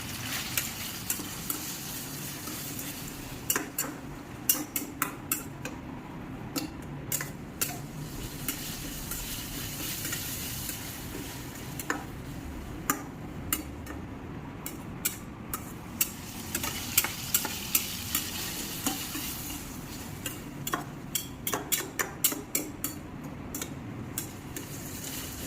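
Dried red chillies fry in oil for a chicken dish, a steady sizzle running throughout while a utensil stirs and scrapes the pan in irregular sharp taps, close and without talk.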